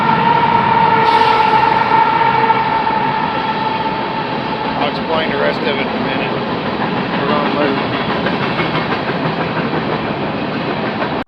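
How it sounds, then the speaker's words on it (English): Passing train heard outdoors at a slingshot practice spot, a loud continuous rumble with clattering wheels and a horn-like tone, while someone talks over it. "we got a train."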